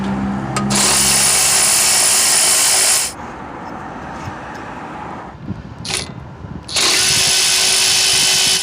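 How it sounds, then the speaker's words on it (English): Power tool bursts loosen the caliper bolts on a 2006-2010 Jeep Commander with a 13mm socket during a brake pad and rotor job. There are two loud, sustained runs of about two and a half seconds each, separated by quieter clanking, with no talk. "you'll need a 13mm socket to remove the 2 caliper bolts"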